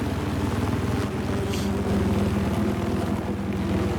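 A helicopter in Battlefield 4 drones steadily overhead, a continuous low rotor and engine hum with a whooshing wash that stays even throughout.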